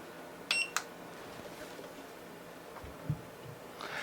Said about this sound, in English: The little beep tells me to push the little button on the back of it